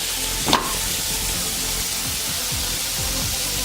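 Bacon frying in a pan gives a steady close sizzle and crackle. Near the start comes one brief louder scrape or spatter, and there is no talking.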